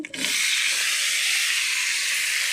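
Chopped ginger hits a hot pan with spluttered cumin seeds and sizzles loudly and steadily, a close, continuous frying hiss after a brief start, with no voices.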